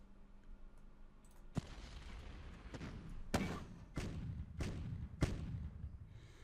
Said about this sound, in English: Let's just soften them up first with quite a bunch of artillery